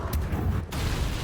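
Spell explosions burst in the Hogwarts Legacy video game during combat, a few dull booms and crackling blasts over a noisy low rumble, brief and fairly faint, with no talk.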